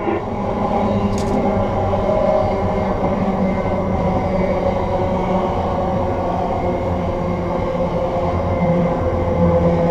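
Steady rumble of a CSX freight train rolling along rails between Utica and Rome, a continuous low roar with faint rattling throughout, no voices.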